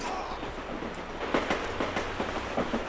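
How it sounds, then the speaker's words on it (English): A train in the Call of Duty Black Ops video game rumbles past with a steady mid-distance roar and irregular clacking wheel beats over about three seconds, with no speech. "Where's that train?"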